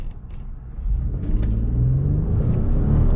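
A 2021 Ford F-150 XLT pickup with the 3.5L EcoBoost turbo engine pulls hard from a dead stop, its deep engine rumble swelling and rising steadily in pitch as it accelerates, heard from inside the cab.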